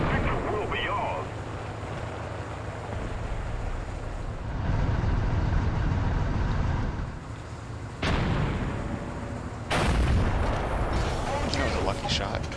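An IS-6 tank's cannon fires in the War Thunder video game, several heavy booming shots with rumbling engine and battle noise between them, loud and close.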